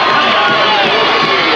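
A sellout football crowd at a Berwick stadium roars and cheers in a loud, dense, continuous wash of many voices, over in under two seconds.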